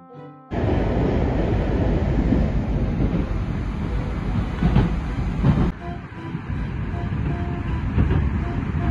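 Moscow metro train in motion, heard from inside a carriage: a loud, steady rumble and rattle of wheels on rails, with a brief dip and clatter partway through, no talk.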